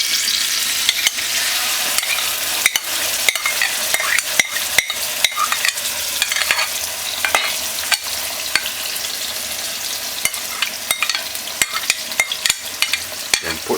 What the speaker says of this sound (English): Now after 2 minutes with the hot oil